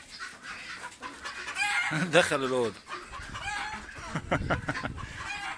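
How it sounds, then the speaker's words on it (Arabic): Chickens cluck and squawk nearby while people talk over them. "فراخ بتجري وراه"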